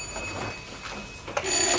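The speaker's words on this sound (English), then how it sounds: "Don't answer that phone." An old-fashioned telephone bell rings in a domestic room, its jangling fairly close and clear, swelling louder near the end with no talk over it.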